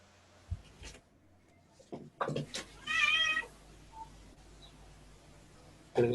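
Small kitten meowing in a room during an online class, a few thin, close meows and soft chirps scattered among knocks and quiet room noise, with no talk.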